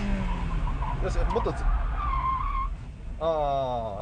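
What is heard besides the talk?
FF car braking, rear sliding out, tires skidding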